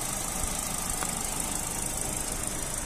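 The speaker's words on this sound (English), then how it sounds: "engine sound nice and smooth" A Vauxhall Astra 1.8i Elite petrol automatic hatchback idles with the engine running, a steady, faint, even hum with a soft low rumble and no revving.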